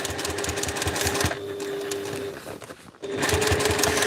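A domestic sewing machine stitches a Tony Tony Chopper One Piece cosplay backpack, its rapid needle chatter running loud and steady, easing off briefly in the middle and then resuming at full speed.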